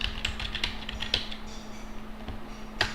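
Password being typed on a computer keyboard, a quick run of sharp clicky keystrokes in bursts with brief pauses, close and fairly quiet over a steady low electrical hum.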